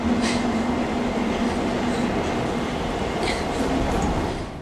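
A runaway subway train from the movie Speed roars past loud and close, a continuous rumbling rush of rail noise with faint metallic squeals, no talk over it.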